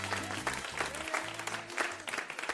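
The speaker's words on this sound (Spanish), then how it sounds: "La gente aplaude educada." A parade audience gives faint, polite applause, a soft, distant patter of clapping hands with some crowd murmur beneath.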